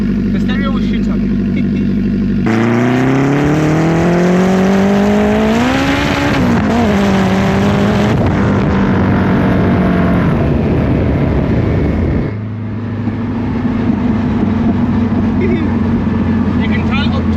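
A turbocharged Honda car making about 450 hp on only 8 psi of boost accelerates hard, its engine note climbing steadily in pitch before easing and settling back to a lower drone, loud and close from inside the cabin, with voices talking.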